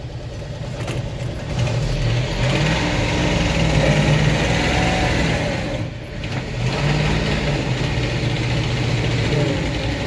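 A tractor engine runs steadily nearby while towing, its low throbbing hum rising and dipping slightly as it labors under load.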